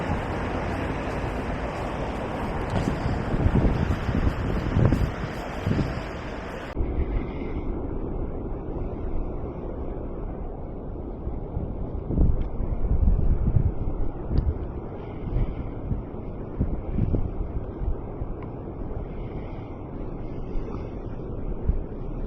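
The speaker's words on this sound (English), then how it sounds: "It's a little bit windy" Steady wind buffets the microphone on Blackpool pier on a cold July day, a continuous low rumble with gusty swells and a sudden drop in brightness partway through, with no voices.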